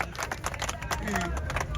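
A crowd claps steadily through a political talk in Spanish, broadband patting bursts dense and continuous, with murmur beneath.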